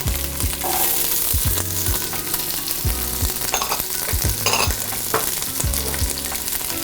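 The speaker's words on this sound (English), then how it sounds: "So I'm gonna saute my vegetables until the onions become translucent" Celery, carrots, onions and leeks sauté in olive oil with a loud, close sizzle, punctuated by repeated thumps and scrapes of a utensil stirring against the pan, and no one speaking.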